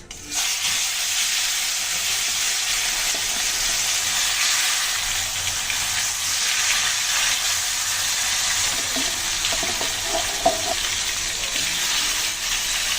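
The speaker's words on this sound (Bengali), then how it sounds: "তো তার আগে মাছগুলো ভেজে নেব।" Tilapia pieces dusted with turmeric crackle and hiss in hot oil in a kadai, a dense continuous sizzle with faint spatters and small bubbling pops throughout.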